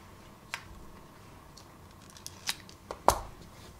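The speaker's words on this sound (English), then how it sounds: "then I'll cut this yarn" Scissors snip through crochet yarn once, a single close, crisp cut after a few faint handling clicks in a quiet room.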